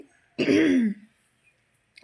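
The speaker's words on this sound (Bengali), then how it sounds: "এখন হচ্ছে আমার কাশি হচ্ছে" A single short, close cough from a person feeling cold on a windy morning: one harsh burst of under half a second, then near silence with faint rustles.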